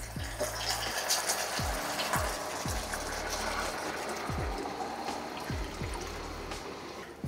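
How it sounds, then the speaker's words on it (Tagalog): Marinade liquid pours into a pot of pork hamonado over medium heat, making a continuous close splashing and trickling wash with a few soft low thumps mixed in. "Tapos, ilagay nyo na yung pinagbabaran."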